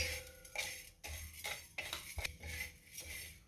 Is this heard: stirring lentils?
yes